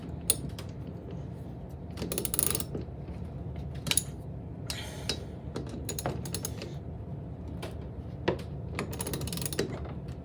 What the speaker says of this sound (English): now we're tightening the clamp down. I want to get this snug.